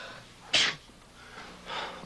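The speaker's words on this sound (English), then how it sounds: "The only thing that makes me sneeze is cat fur." A single sharp sneeze, close and fairly loud, followed by a quieter breathy exhale or sniff a second later, with no talking.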